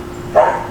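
Dogs bark in one short burst partway through, fairly close and loud, over a low background hum.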